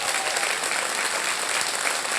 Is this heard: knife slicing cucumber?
no